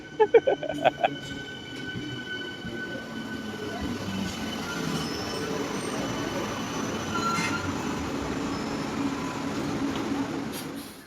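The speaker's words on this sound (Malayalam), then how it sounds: "ആദ്യമായിട്ട് അടുത്ത ട്രെയിൻ കണ്ടു" A train rumbles steadily close by with a constant broadband roar and wheel squeal, preceded by a few sharp clanks at the start.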